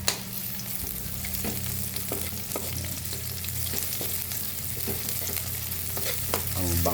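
Onions going into a frying pan for ginisang gulay, a steady close sizzle with intermittent scraping knocks of a spatula as they are stirred.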